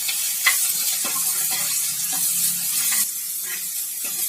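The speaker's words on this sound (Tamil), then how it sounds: "இப்போ இஞ்சி பூண்டு பேஸ்ட்டோட பச்சை வாசனை போகிற அளவுக்கு நல்லா எண்ணெயிலே வதக்கிக்கிறோம்" Ginger garlic paste sautéing in oil for a vegetable kurma, a steady close sizzle with soft periodic stirring scrapes, no talk.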